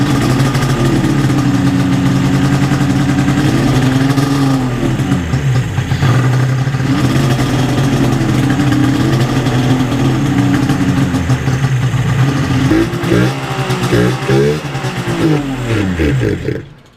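A 1998 Yamaha SRX 600 power-valve snowmobile engine with flooded carbs runs loud and close, holding a rough, steady idle with a few throttle blips and wavering revs near the end.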